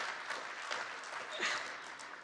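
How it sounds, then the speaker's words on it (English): Audience applause at a climate ideas conference, a steady wash of many hands clapping through the whole stretch, moderately distant and even in level, with no talk over it. "Yeah, you can clap."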